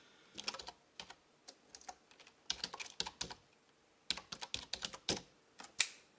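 Fingers type on a computer keyboard in quick, uneven bursts of soft clicking keystrokes, close and fairly quiet, with short pauses between the bursts.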